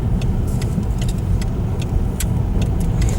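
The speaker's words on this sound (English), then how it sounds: "Now I'm going to demonstrate another great aspect to this car, which is the fact that it is extremely easy to park." A Seat Ibiza small car rolling slowly into a tight parking space, a steady low engine and road rumble heard from inside with faint ticking clicks above it.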